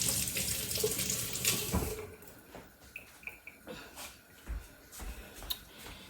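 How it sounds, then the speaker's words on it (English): Running tap water splashes over fingers at a kitchen sink during home water-bath canning of orange sauce, a steady close wash in the first two seconds that thins to scattered drips and clinks. "Wash off my fingers."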